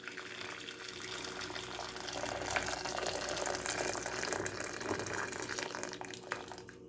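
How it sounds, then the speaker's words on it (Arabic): Boiling water from a kettle pours steadily onto washed rice in a pot, a continuous splashing gush with no pauses. "Then I'm gonna add 3 cup of boiling water."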